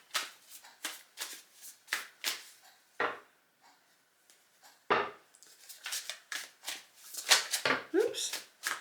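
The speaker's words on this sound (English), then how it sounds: "Let's carry on shuffling." Tarot cards being shuffled by hand, a rapid series of crisp riffling and slapping bursts, close and fairly quiet, with a pause midway and a voice speaking briefly between shuffles.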